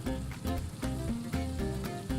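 Food sizzles in a fryer in the Overcooked video game, a steady crackling hiss punctuated by repeating pulsed game sounds, fairly soft with no talking over it.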